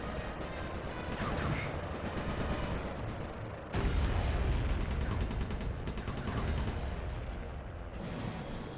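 Game explosions from two planes ramming each other in Sly 3 boom and crackle in bursts, with one louder blast partway through over continuous rumbling.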